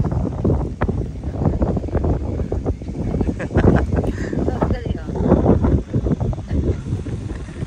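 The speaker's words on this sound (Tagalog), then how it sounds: "Lakas ng hangin." Strong wind roars and rumbles against the microphone throughout at an outdoor Asian festival night market in Saskatoon, with people talking underneath it.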